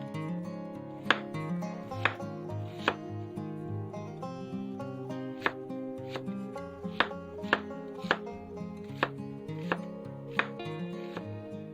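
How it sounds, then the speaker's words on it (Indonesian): A knife slices through half an onion on a cutting board, giving a steady run of crisp taps about every half second under a continuous musical backing. "Selanjutnya, bawang bombay diiris."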